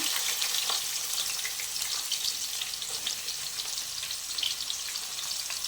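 Onions and green chillies fry in hot oil with a continuous bright sizzle and light crackling, steady and close throughout, with no one talking.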